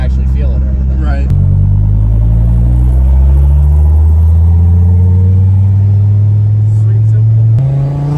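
A lime green twin-turbo Dodge Viper revs nearby, its deep engine drone climbing steadily in pitch and holding loud. A voice speaks briefly over it.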